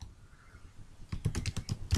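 Quick keystrokes on a computer keyboard while code is typed: a brief run of about six or seven crisp clicks arriving after a second of quiet room tone, close and clear.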